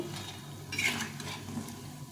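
Mung dal fritters fry in hot oil, a quiet, steady sizzle with a brief brighter burst of stirring or utensil contact near the middle, no voices.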